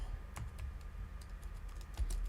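Code being typed on a computer keyboard: a quick, irregular run of soft key clicks at close range, fairly quiet, with no speech.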